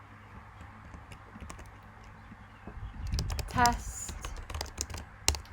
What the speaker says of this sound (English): you type in the amount